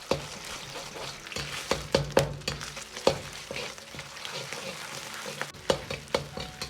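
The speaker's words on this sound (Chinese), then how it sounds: "下入剁好的肉末，炒出香味" Minced meat stir-frying in a wok oiled with scallion oil over medium-low heat, a loud close sizzle broken by rhythmic scraping and clacking of a spatula against the pan.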